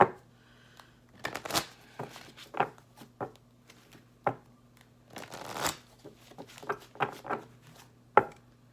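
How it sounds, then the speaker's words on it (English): Crisp riffling bursts of tarot cards being shuffled, several quick flurries with short pauses between, close and clear with no talking. "2 more shuffles."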